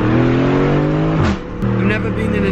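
A sports car fitted with a race exhaust revs hard in a Monaco driveway, its engine note climbing, dropping briefly, then surging again, loud and close, with voices talking over it.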